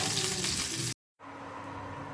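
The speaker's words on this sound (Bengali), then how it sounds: "এবারে শুকনো লঙ্কা আর একটু কালো জিরে ফোড়ন দিলাম" Dried red chillies and nigella seeds sizzle loudly in hot oil left from frying fish, a dense crackling hiss that cuts out briefly and then returns slightly softer; no talking.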